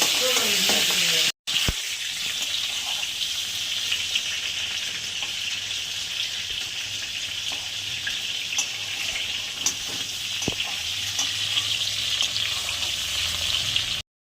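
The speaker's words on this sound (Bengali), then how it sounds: "পটলগুলো ভেজে তুলে নেব, তারপর আলুগুলো ভেজে নেব।" Pointed gourd and potatoes frying in hot oil in a home kitchen, giving a steady, loud sizzle throughout with a few brief clinks and stirring sounds.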